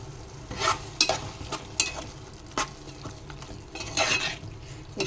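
Tomato and drumstick curry being stirred in a pan, with a spoon scraping and clinking at irregular intervals over a low steady sizzle. No voices.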